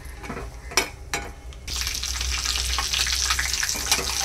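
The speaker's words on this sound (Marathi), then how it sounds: "फक्त त्याचा जो क्रिस्पीपणा आहे तो येण्यासाठी थोडंसं तुपामध्ये आपल्याला ते तळून काढायचं आहे." Cashews shallow fry in ghee with a bright, continuous sizzle close by, preceded by a few knocks and stirring scrapes in the pan.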